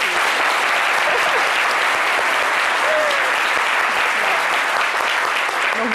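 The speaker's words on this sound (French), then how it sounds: "Donc, je pense que ça s'applaudit." A seated audience claps steadily for a man destined to take a throne, a sustained, even wash of applause lasting about six seconds with faint voices underneath.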